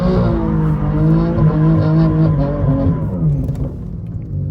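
A drifting car howls under throttle with the rear stepping out, its engine revving hard and the tires squealing in a long, loud, continuous wail that slides in pitch before easing off.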